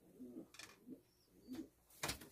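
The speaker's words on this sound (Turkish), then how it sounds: "Posta güvercini çünkü onlar." Homing pigeons coo softly at night in a loft, a few low throaty coos in quiet surroundings, mixed with several rustling bursts nearby.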